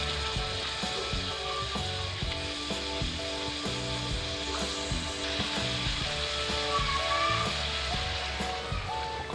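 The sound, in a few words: stirring boiled jengkol with spices in a pan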